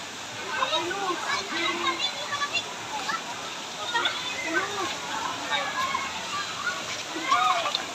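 Small Caunayan Falls in Baler with clear water pours steadily, its rushing wash mixed with sloshing and splashes from a crowd of bathers, while voices and chatter run throughout.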